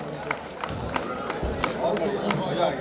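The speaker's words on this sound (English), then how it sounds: "Audience, may we have a huge round of applause?" Audience at a college annual cultural festival clapping, with distinct sharp claps at a fairly regular pace rather than a thick wash of applause, heard over crowd murmur and nearby talking.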